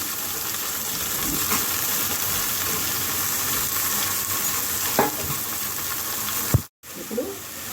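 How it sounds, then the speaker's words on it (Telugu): Beans and potato pieces go into a hot pan and fry, giving a continuous close sizzle with scraping stir strokes and a brief clunk near the end. "బీన్స్ బంగాళదుంప ముక్కలు వేస్తున్నాను"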